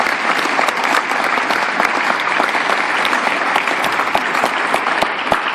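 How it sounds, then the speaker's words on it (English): Steady, dense applause from an audience honoring young men in a youth program, continuous and loud throughout with no talking over it. "They deserve a round of applause also."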